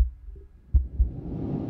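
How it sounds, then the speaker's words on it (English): Heartbeat sound effect in a music video, a couple of deep thumping beats followed by a rising low rumble, loud and alone. "Heartbeat."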